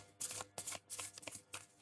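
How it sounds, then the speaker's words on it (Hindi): Tarot cards being shuffled by hand, several quick riffling bursts in a short run, close and fairly soft, with no talking. "और यहाँ पे शफल कर लेते हैं।"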